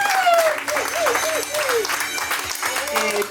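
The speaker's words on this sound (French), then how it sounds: "Est-ce qu'on peut acclamer la famille Mayaoula?" Wedding guests applaud the Mayaoula family in a dense burst of clapping that holds steady from start to end, while a voice talks over it.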